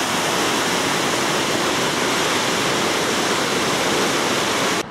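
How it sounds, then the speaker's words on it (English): Water roars over a river weir near a rowing club in Guildford, a loud, dense, continuous rush that fills the scene with no other sounds. "Crossing a very noisy weir, mentioned in point 3 of the text."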